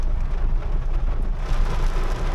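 Heavy rain pours down on a Manila bus route along EDSA, a dense, loud, constant roar of water with a rumbling low end.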